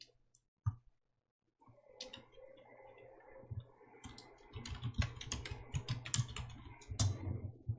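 Keys clatter on a computer keyboard in quick, close, irregular taps, starting with a few isolated presses after a short silence and then building into a dense burst of continuous typing.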